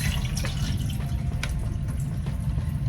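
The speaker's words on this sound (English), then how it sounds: "And I'm going to pour the excess water off." Excess water, mixed with fertilizer nutrients, is poured off a plant pot's pellets, a soft steady trickle with small drips and splashes, close and fairly quiet, with no talking.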